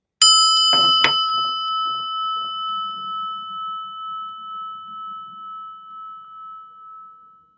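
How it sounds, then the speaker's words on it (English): A bell is struck twice in quick succession, then rings on in a long, clear tone that slowly fades with a gentle wavering pulse. "Listen to the bell."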